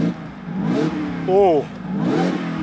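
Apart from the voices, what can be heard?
Ford Raptor R engine revving with exhaust mode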